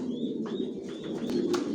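Racer pigeons coo in a loft, a low murmuring burble that runs throughout, with a few faint higher bird calls above it.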